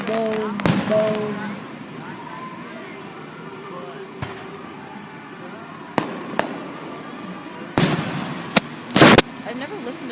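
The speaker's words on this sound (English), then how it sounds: "I've never listened to fireworks with music before." Fireworks burst outdoors in a string of sharp, scattered bangs and crackles, some single and some in quick clusters, the loudest near the end, with faint music and voices between blasts.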